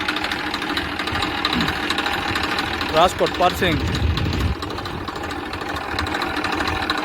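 A 2007-08 Massey Ferguson 1035 tractor engine idles with a steady, close, continuous rumble while someone talks over it in the middle.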